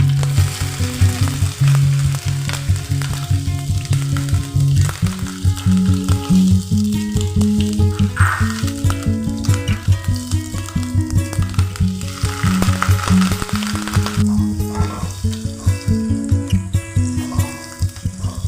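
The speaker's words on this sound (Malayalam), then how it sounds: "ഒരു അഞ്ച് ടേബിൾ സ്പൂൺ വെളിച്ചെണ്ണ ഒഴിച്ചു കൊടുക്കാം അത് കുറച്ച് അധികം വെളിച്ചെണ്ണ ഒഴിച്ചു കൊടുത്തിട്ടുണ്ട് ഇനി ഇതിലേക്ക് ഇഞ്ചി ചേർത്ത് കൊടുക്കാം" Finely chopped ginger fries in a generous pour of coconut oil for Onam-style puli inji. A steady, loud sizzle runs throughout under tonal background music.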